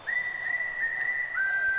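A single sustained whistle carries steadily for nearly two seconds during a live Cardinals vs. Royals baseball broadcast, holding one pitch and then stepping to a slightly lower note near the end, clear and fairly loud.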